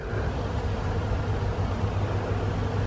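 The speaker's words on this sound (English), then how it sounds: "Oh, and I can hear the honeybees." Honeybees buzzing around flowering shrubs in a spring garden, a steady low hum that holds evenly throughout, moderately close with no talking.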